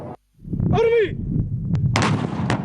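Live-fire artillery and gunfire during an Algerian army exercise, heavy booming blasts that fill most of the stretch after a brief shouted command, loud and close.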